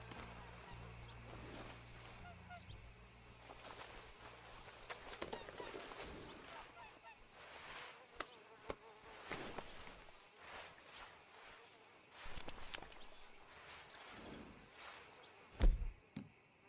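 Horse hooves clip-clop in the Red Dead Redemption 2 video game as a rider pulls up to hitch, a steady walking rhythm of soft hoof hits under game ambience and music, with a few sharper thuds.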